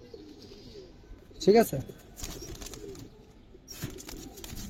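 Giribaz pigeons of a rare phase coloring coo at close range with a sharp burst of calls, then low murmuring coos continue while someone speaks briefly.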